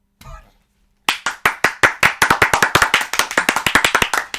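A single person clapping in a steady, close, sharp rhythm, the claps speeding up slightly, after a brief spoken sound at the start.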